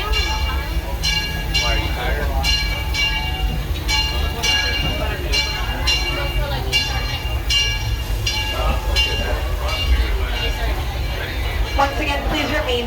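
The Disneyland Railroad steam train, Ernest S. Marsh #4, rolls steadily along the rails at night with regular clacking beats over a low rumble, while a recorded announcement voice talks throughout.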